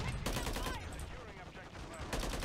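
Gunfire in a video game, with heavy recoil, crackles in rapid dense bursts that sound like a machine gun, loud and continuous through the whole moment, mixed with faint voice.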